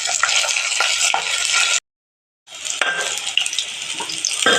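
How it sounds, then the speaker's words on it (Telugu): Bitter gourd slices fry in a pan with a steady, bright sizzle of hot oil and occasional clinks of a stirring utensil; the sizzle breaks off briefly, then resumes. "కాకరకాయ చెక్కలు వేగిపోయినండి"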